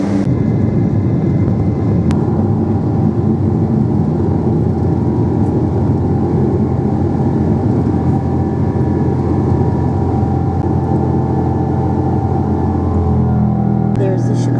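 United Boeing 777-200 jet engines roar steadily at a loud, constant level throughout a takeoff roll from Chicago O'Hare, heard from inside the cabin as a dense rumble with no speech.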